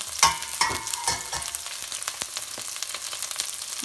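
Ginger garlic paste and hing (asafoetida) hit hot oil while making a rajma and black urad dal gravy, giving a close, crackling sizzle with a few sharp spits early on that settles into a steady frying hiss.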